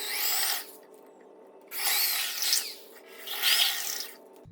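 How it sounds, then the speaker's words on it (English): A power drill bores holes in wood while a goat milk stand is built, three separate grinding bursts of about a second each with short quiet gaps between them, close and fairly loud, with no voices. "So now we just get to drill holes."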